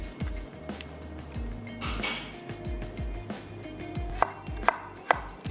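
A knife chops a carrot on a board while cooking, a run of firm, steady thuds near at hand, ending in a few brighter clinks.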